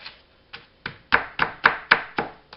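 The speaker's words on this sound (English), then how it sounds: "blend it in this tub" A cheesecake base is worked by hand in a tub, giving a run of sharp, evenly spaced knocks and scrapes that build in loudness, close up, with no talk.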